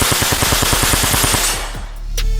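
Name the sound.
Uzi submachine gun firing full auto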